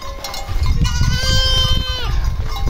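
Young goats bleat nearby, one drawn-out wavering bleat standing out over the shuffling and rustling of the herd moving outdoors.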